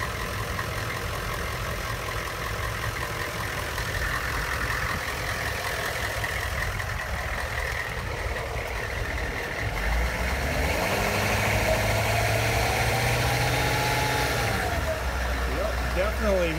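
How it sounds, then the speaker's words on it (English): A military HMMWV M1165-A1 with a turbocharged engine runs at a steady drone, and a rising and falling turbo whine sits on top of it, heard close from inside the vehicle as someone talks over it. "I think I hear the turbo whining."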